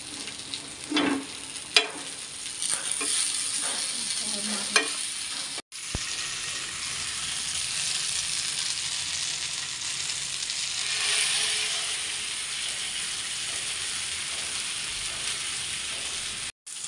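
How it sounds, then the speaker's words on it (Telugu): Fish frying in a pan, a steady hissing sizzle throughout with several utensil scrapes and clinks early on, a brief cut near the middle, then unbroken close frying with no speech. "ఇట్లా చేపలు ఫ్రై చేస్తానండి."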